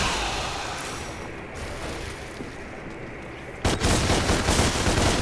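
Sustained automatic gunfire in a Devil May Cry action game as critters are shot, a constant rattling stream that gets sharply louder and denser partway through.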